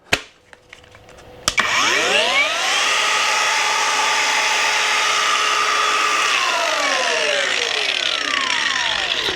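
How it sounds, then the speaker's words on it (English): A KINCROME cordless battery angle grinder clicks on, whines up to a steady high-pitched spin, holds there, then winds down, loud and close with no talking. "Then we've got the grinder."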